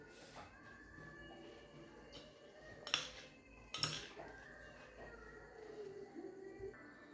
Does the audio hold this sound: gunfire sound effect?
no